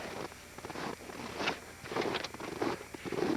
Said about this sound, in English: Yes, I hear the snow still crunching under my feet on this beautiful warm day.